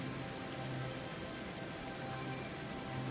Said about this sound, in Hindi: कुछ समय बाद ही बहुत तेजी से बारिश होने लगती है